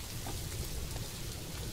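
Rain falls steadily as a dense, even hiss in the video game Planet Zoo, with a faint rumble underneath and no talking.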